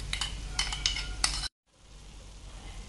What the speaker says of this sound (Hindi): अब ये ड्राई फ्रूट भी हम इसमें मिक्स कर देंगे जो हमने घी में रोस्ट किए थे